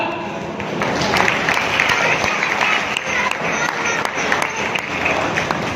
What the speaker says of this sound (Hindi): तो इन साथियों ने जोरदार तालियां